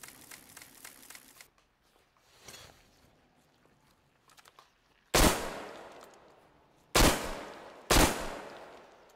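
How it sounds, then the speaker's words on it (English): Gunfire in the video game Metro Exodus: three loud, sharp shots spaced a couple of seconds apart, each with a short decaying tail, following quieter rustling and footsteps. "I'm shooting you"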